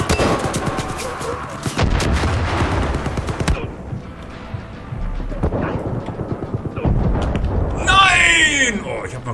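Gunfire in Far Cry 5 during a hunt: rapid bursts of loud shots in the opening seconds, then scattered single reports, with a voice talking over parts of it.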